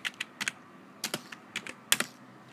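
Code is typed on a computer keyboard in short bursts of crisp key clicks, a few quick taps at a time separated by brief pauses, close and fairly quiet with no talking.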